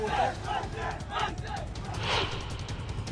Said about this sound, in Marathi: मनसे कार्यकर्त्यांनी कृष्णकुंड बाहेर एकच जल्लोष केला